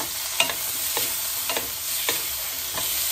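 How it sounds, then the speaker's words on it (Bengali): Puimetuli is stirred in a hot pan after turmeric goes in, with five or six distinct scraping strokes spaced evenly over a continuous background sizzle, close and fairly loud. "হলুদ দিয়ে ভালো করে নেড়ে নিচ্ছি"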